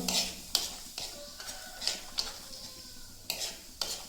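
Hair oil heats in a pan on a gas stove, giving a soft low sizzle under a series of quiet spoon-against-pan clinks and stirring scrapes at irregular intervals, with no talk.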